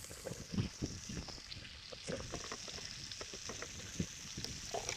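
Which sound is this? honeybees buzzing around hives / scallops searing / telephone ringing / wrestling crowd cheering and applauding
scallops searing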